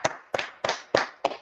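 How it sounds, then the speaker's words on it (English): Clapping at a church meeting comes as five crisp, evenly spaced claps about a third of a second apart, close and fairly loud with brief ringing after each, and no voices. "Let's clap it up for the Lord."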